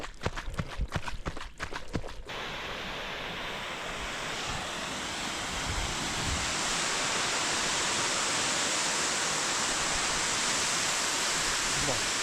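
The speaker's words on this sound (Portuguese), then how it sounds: "Cachoeira pequenininha, mas bonitinha." Small waterfall outdoors on a long birthday run, a steady loud broadband rush of falling water that fills the scene, with a few brief thumps and bumps near the start before the rushing continues alone.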